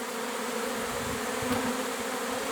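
An autumn swarm of bees flies and settles onto a hive, making a dense, steady buzzing drone close by that holds evenly for a few seconds.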